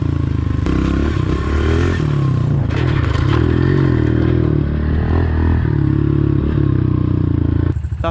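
A pit bike rides a backyard dirt track with a loud, steady engine drone. Revs rise and fall, and clattering, scraping knocks suggest the bike is landing jumps. No one speaks.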